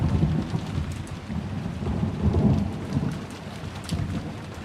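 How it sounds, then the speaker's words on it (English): Heavy rain pours steadily while low thunder rumbles and rolls beneath it, a dense, continuous wash of sound with no voices. "The rain is heavy."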